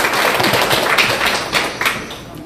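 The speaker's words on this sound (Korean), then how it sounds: "박수 한번 쳐내어 드리겠습니까?" Applause from an audience at a meeting between Democratic Party leader Lee Jae-myung and small business owners in Anyang, a dense steady patter of many hands clapping at close range that eases slightly toward the end.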